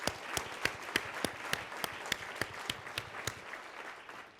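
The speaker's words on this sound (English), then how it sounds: "So let's give them all a round of applause." An audience at a talk on employer talent investment bursts into steady applause, many hands clapping together in a dense, even patter that holds throughout and tapers slightly toward the end.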